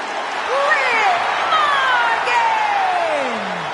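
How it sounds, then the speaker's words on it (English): Virtual arena crowd in the WWE 2K24 wrestling video game, a steady roar of cheering with rising and falling whoops running through the whole stretch, fairly loud and continuous. "Listen to that crowd!"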